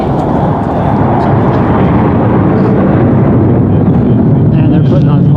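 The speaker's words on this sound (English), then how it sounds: "they're putting on quite the air show here for some reason on a Thursday" Aircraft fly overhead at an air show near the Pima Air and Space Museum in Tucson, Arizona, a loud continuous roaring rumble filling the whole stretch, heard outdoors without clear speech.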